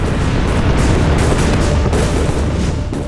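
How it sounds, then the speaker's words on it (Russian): Dense, continuous rumbling booms of hundreds of Russian cannons firing at the Battle of Eylau, rolling together without pause, loud and overlapping like a sustained barrage. "сотни русских орудий открыли массированный огонь."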